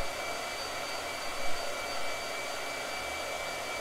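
A blow dryer runs steadily with a constant airy whir and faint high whine, fairly quiet and unbroken throughout, with no talking.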